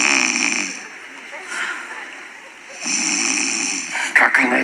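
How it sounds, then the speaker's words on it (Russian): A person snores in a comedy sketch with a few drawn-out, rasping snores separated by quieter gaps, close and fairly loud, with people talking around them. "ты что, храпишь, что ли?"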